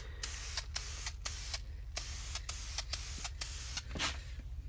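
Aerosol clear coat sprayed in short hissing bursts onto a sanded, fogged car headlight lens on a 2004 Acura TSX, about nine spurts in steady rhythm over a low background hum.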